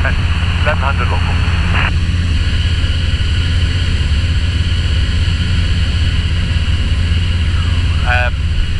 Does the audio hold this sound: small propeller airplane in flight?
yes